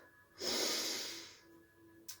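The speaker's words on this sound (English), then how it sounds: "We're going to take a long deep breath in through the nose" A single long, deep breath drawn in through the nose during a Pilates session, soft and close, swelling then fading over about a second.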